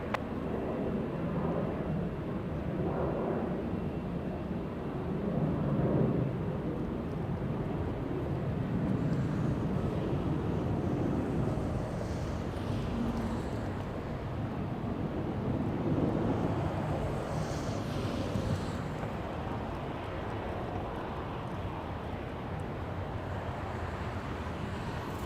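An airliner taking off from runway 24 left at LAX, heard as a steady, distant broadband engine roar with wind noise that swells and fades slightly across the whole stretch, with no talk.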